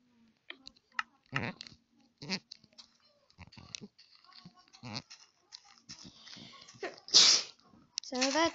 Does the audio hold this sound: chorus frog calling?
no